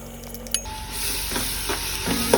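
Bottle gourd pieces hit hot ghee in a pan for Hyderabadi kaddu kheer, with a steady close sizzle and hiss, a few clinks of a spoon stirring against the pan.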